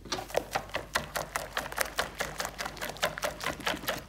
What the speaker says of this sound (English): And give it another little whisk.